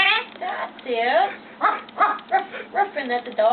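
A yellow-naped Amazon parrot imitates a dog, giving a run of short bark-like and whining calls with rising and falling pitch, close and fairly loud, spread across a few seconds.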